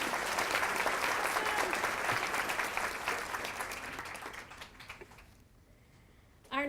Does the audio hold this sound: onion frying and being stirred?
no